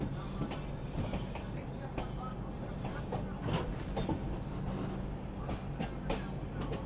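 The Kaifiyat Express rolls out toward Akbarpur and Ayodhya Cantt, heard from inside as a steady low rumble with faint rhythmic wheel clatter on the rails throughout.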